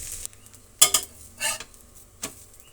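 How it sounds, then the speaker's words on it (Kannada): A dosa is flipped on a hot pan, with metallic spatula scrapes and clinks in separate bursts over a faint sizzle. "ನಾವು ದೋಸೆನ ತಿರುಗಿಸೋಣ. ಆ ಕಡೆನೂ ಚೆನ್ನಾಗಿ ಬೇಯಬೇಕು."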